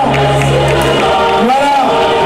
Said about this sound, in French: On va les applaudir avec la musique de la Champions League pour dire que ce sont les champions